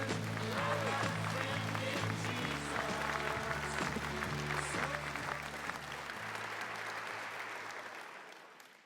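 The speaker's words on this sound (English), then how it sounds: "Let's have one more round of applause for our United States Astronaut Hall of Fame astronaut" An audience gives a round of applause for an Astronaut Hall of Fame inductee at an induction ceremony, steady clapping over sustained background music, gradually tapering off near the end.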